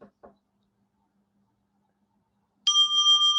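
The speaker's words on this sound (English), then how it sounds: "you should hear a bell in about 5 or so seconds" A meditation bell is struck once to open a session, ringing with a clear sustained tone that hangs on evenly after a quiet pause; a couple of faint low thumps come before it.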